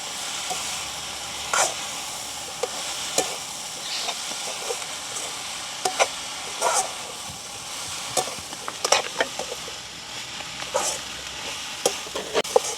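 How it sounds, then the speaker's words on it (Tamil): Drumstick pieces sauté with turmeric powder in a pan over a soft background sizzle, broken by intermittent bursts of stirring scrapes and clatter, with no talking. "எங்களுக்கு வந்து முருகங்காய் வதங்கி கொண்டிருக்குது"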